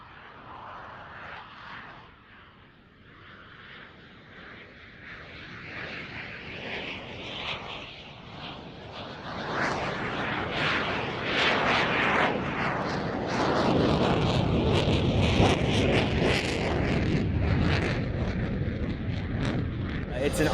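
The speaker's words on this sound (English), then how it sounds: "demonstrate the high angle of attack capability of the Hornet at minimum speed" A Hornet fighter jet flies a slow, minimum-speed, high angle-of-attack pass at RIAT 2024 air show, its engine roar swelling steadily from a distant rumble to a loud, sustained, rough blast close by.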